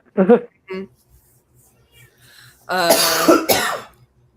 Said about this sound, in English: said partner is actively like coughing up a lung